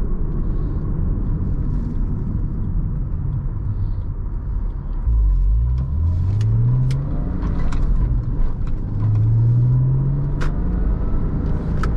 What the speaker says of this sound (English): this is a two-door sports car, kind of expected it to be a little bit loud